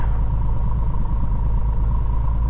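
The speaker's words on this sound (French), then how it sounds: "Donc, les essais moteurs et freins" A Piper PA24 light aircraft engine holds a steady, droning rumble during a run-up test, heard from inside the cabin as a continuous loud hum with no talking.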